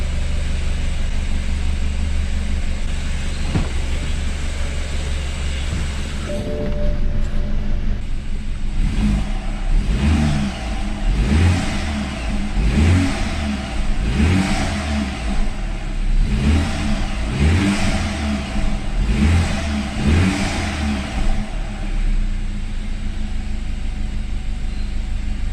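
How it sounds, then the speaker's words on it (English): An old BMW car engine idles steadily, then revs in a series of rhythmic rising and falling bursts, close and loud with no talk. "The engine seems to run okay."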